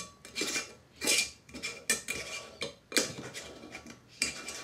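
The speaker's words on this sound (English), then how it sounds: "Put your lid on there." Hard plastic clatter and knocks as a lid is fitted onto a drink container, several sharp bangs and rattles in quick succession, close and fairly loud with no talking.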